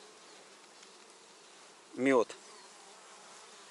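Honey bees on a beehive frame hum as a soft, steady buzz throughout, while someone speaks a single short word partway through.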